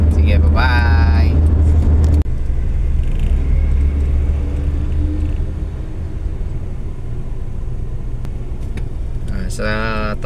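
Steady low road rumble from a car driving on the SCTEX expressway toward the Tarlac toll gate, continuous and close, with people talking over it.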